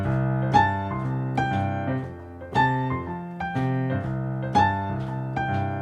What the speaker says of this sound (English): The other type of melodic ghost note that I love to use is the root ghost note in the